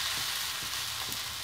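Mudakathan dosa frying with sesame oil on a pan after being flipped, a steady close hiss of sizzling with a few soft scraping touches.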